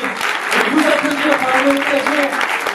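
A festival audience gives sustained, steady applause throughout, with voices talking over the clapping.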